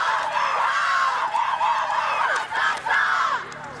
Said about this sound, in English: winding it up with a cheer